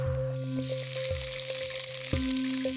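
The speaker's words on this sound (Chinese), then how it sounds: "鱼腩切块，下锅煎至两面金黄" Fish belly pieces pan-frying in oil make a continuous close sizzle, with low tonal hum and occasional clicks and knocks beneath the crackle, no voices.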